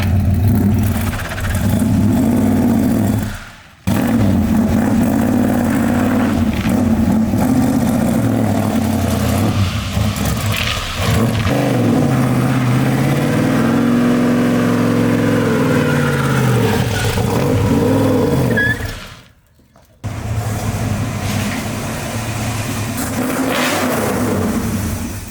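A naturally aspirated 1965 Ford Mustang engine revs loudly and close by for over twenty seconds, rising and falling through long pulls, with two abrupt drops to near silence between bursts.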